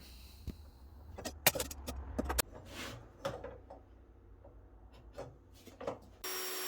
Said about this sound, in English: I'm just finishing off the scroll work on the end with a power drill sander thing.